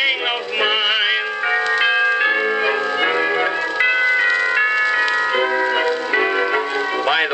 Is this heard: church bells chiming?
yes